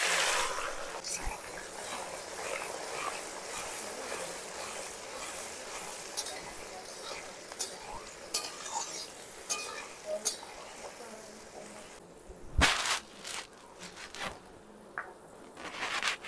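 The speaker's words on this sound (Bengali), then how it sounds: "এবার দিচ্ছি কেটে রাখা পেঁয়াজ।" Chopped onions frying in a pan with dried red chillies, bay leaves, whole garam masala and cumin, a continuous sizzle with scraping stirs and occasional clanks, ending in a sharp knock.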